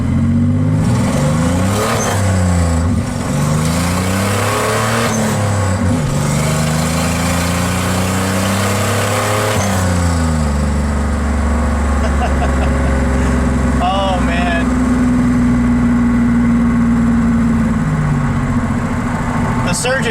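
A turbocharged 3.9-liter Dodge Dakota engine on a dyno revs hard through the gears from first, its pitch sweeping up and dropping again in repeated loud pulls, then holding a steady high drone near the end.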